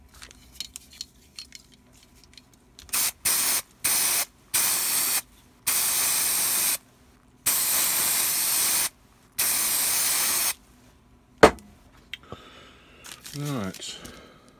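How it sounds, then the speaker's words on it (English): Spray adhesive blasted onto a rubberised horsehair model tree: a series of loud, close, steady hissing bursts of about a second each, separated by short pauses, followed by a sharp knock and faint rustling. "I've got my spray adhesive. I'm going to give the tree a blast"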